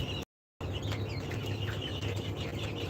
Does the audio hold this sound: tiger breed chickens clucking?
yes